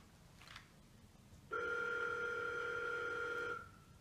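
A telephone handset gives a short faint tone, then a loud steady two-tone ring or dial signal lasting about two seconds before cutting off, close and clear with no talking.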